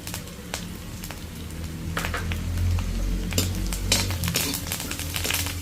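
Curry leaves dropped into a hot pan with chilli and garlic paste, giving a steady crackling sizzle with scattered sharp pops and utensil clinks, close and fairly loud, with no talking.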